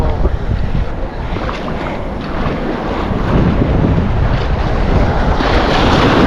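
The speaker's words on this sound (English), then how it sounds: "That's how hard the wind's blowing." Strong wind gusting at Lido Beach, a loud steady roar of air buffeting the microphone over rushing surf, blown sand stinging the legs.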